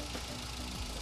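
A hydrogen-fuelled car engine idles steadily with a low mechanical hum and slight knocking, its pitch dipping briefly near the end.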